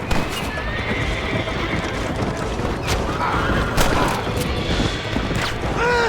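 A horse gallops in Red Dead Redemption with a steady, dense drumming of hooves, loud and close throughout, with a few sharp bangs and a whinny toward the end.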